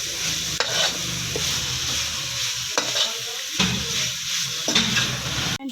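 Ketchup is mixed into chicken spaghetti in a pan, a spoon scraping and stirring in uneven strokes with occasional sharp knocks against the pan, over a constant hissing sizzle, close up and without talking.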